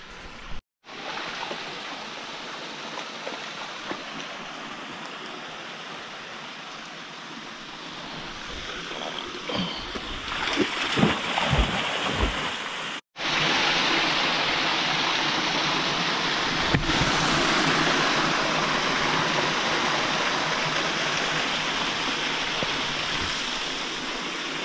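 A steep mountain stream rushes and splashes loudly and continuously, cutting out briefly midway before returning as a steady roar of falling water close by.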